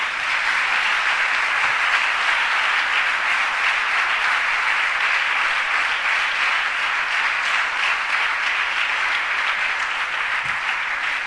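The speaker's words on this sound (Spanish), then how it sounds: "Le da un aplauso al Señor." Loud, sustained applause from a church congregation, a thick unbroken roar of clapping that holds steady throughout.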